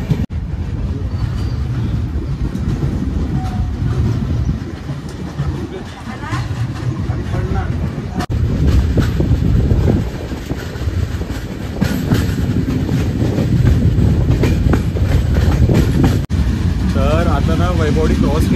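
A special train bound for the Anganewadi fair in Konkan rolls out with a loud, continuous rumble and rhythmic wheel clatter as it runs beside another train, while people talk nearby.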